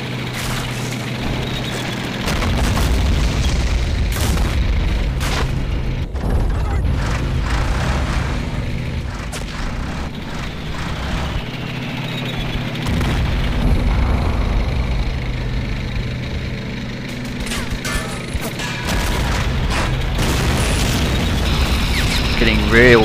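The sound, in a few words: explosions and tank combat in a war video game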